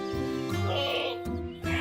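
A goat bleating in a domestic courtyard, a few loud, wavering nasal cries close by, broken by short pauses.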